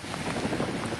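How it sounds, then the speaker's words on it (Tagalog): Strong cyclone winds from Cyclone Jasper batter Queensland, Australia, heard as a dense, continuous roar of wind buffeting the microphone, loud and steady throughout with no voices. "Hinagupit ng malalakas na hangin ng Queensland sa Australia dulot ng Cyclone Jasper."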